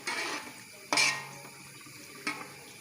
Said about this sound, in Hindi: राइस को मिक्स कर रहे हैं।